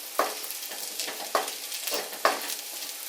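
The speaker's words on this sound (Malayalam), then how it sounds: "ഇതൊന്ന് വേകുന്നതിന് നമ്മളൊന്ന് ഇളക്കി കൊടുക്കണം." Raw turmeric frying in ghee in a pan is stirred, giving a steady sizzle broken by three sharp scraping strokes of the spoon, close and fairly loud with no voices.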